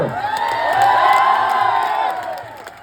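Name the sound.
crowd of protesters cheering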